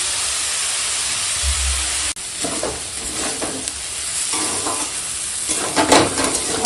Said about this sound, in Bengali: এখন মোচাটাকে কষিয়ে নেবো